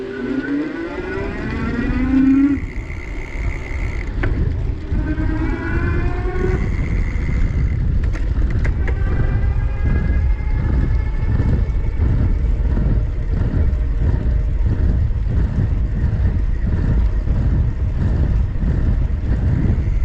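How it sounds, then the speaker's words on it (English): A Magnum Ui6 electric bike's hub motor whines as it is pedaled at the highest assist level, rising in pitch as it speeds up, then holding a steady hum over rolling road noise. "I'm gonna pedal along in the highest level of assist so you can get a sense for how the motor sounds and how responsive it is"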